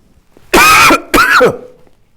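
Two harsh, close coughs in quick succession, each a rough throaty burst, with a short pause between and quiet after.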